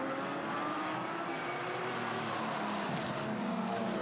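Porsche 911 GT3 Cup race cars at full throttle on the Spa circuit during a Carrera Cup race, a continuous loud engine roar that stays close and steady for the whole stretch with no commentary over it.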